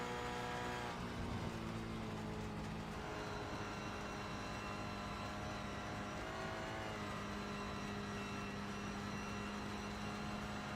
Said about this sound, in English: just losing a bit of traction through the puddle. You hear it spin up a little bit